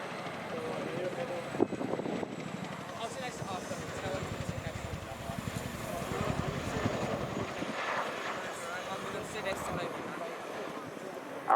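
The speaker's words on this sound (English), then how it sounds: "the aircraft runs in for a downwind quick stop, they'll be simulating a late spot to the landing site" Chinook helicopter flying a display at the Royal International Air Tattoo 2025, a steady rotor and engine drone throughout, moderately distant, with a rhythmic low chop and a commentator talking over it.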